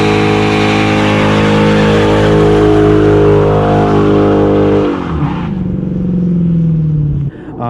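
A Dodge Hellcat Redeye roars hard under acceleration on a highway, its engine pitch climbing through a gear then dropping as it shifts, loud and close, with faint speech.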